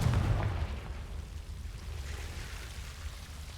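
A Confringo blasting spell bursts in the video game Hogwarts Legacy, a loud low boom at the start that decays into a rumbling tail, with no talking.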